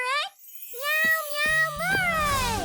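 A kitten gives several high, drawn-out meows in close succession, bright and tonal, with a few soft knocks and rustles in between.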